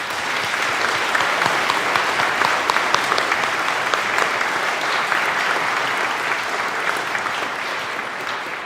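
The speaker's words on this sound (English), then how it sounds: "All right, we can clap for this group." A crowd claps for a group at a service, sustained even applause from many hands that holds steady for the whole stretch without pause.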